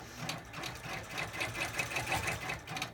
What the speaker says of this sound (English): And we're going to continue stitching.